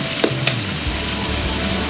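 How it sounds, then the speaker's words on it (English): Garlic and chili flakes frying in a pan for a tofu stir fry, a dense continuous close sizzle with a couple of quick clinks at the start. "While my garlic is cooking, I'm also placing chili flakes."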